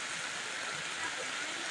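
Rain falls around an open umbrella outdoors while someone sells fried chicken, a steady, soft, even hiss that stays faint throughout.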